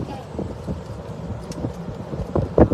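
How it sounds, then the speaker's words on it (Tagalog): Wind rumbles and gusts across the microphone outdoors on a street with traffic, a steady buffeting noise beneath a person talking, rising in a few louder gusts toward the end. "Mahangin, no?"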